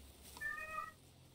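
A house cat lets out a single short, faint meow indoors, rising briefly and fading quickly over a quiet background hum.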